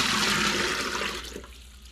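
Water pours in a steady, rushing gush into the reservoir of a Dr. Prepare nugget ice maker, then trails off to a thin trickle as the pour ends.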